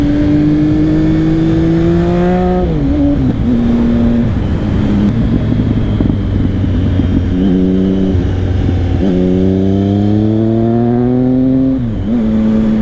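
Motorcycle engine heard close up during a slow U-turn on a ride, revving and easing with clear pitch rises and drops as the rider shifts gears, loud and steady throughout with no talking.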